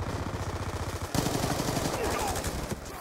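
Light machine gun fire in Call of Duty Black Ops 2 during a Hardpoint match on the Slums map, with sustained rapid bursts that are fairly loud and continuous, mixed with game audio and voices talking.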